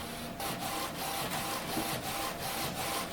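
An HP Officejet 6700 printer runs during its first print, with a loud, steady mechanical whir broken by a regular series of faint clunks, heard close up.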